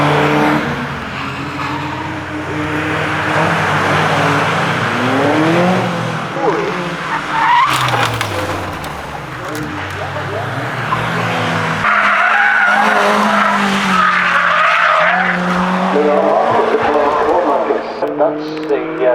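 Caterham race cars lapping Cadwell Park circuit, engines roaring loudly as a group of cars passes close by with revs rising and falling through gear changes, while a commentator talks over the noise.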